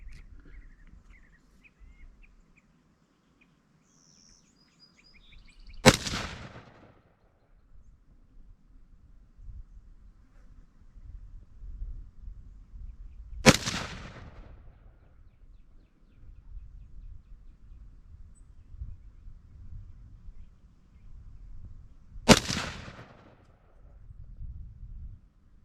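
A Daniel Defense DD M4-V7 rifle fitted with a front grip and rested on a shooting bag fires three loud, separate shots at an outdoor range, each followed by a short echo and about eight seconds of low rumble between them.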